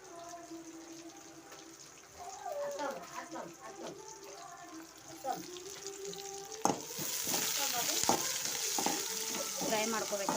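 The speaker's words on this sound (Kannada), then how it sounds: "ಫ್ರೈ ಮಾಡ್ಕೋಬೇಕು ಈಗ." Food fries in a pan, crackling and sizzling more strongly in the second half, while a person talks over it at low volume.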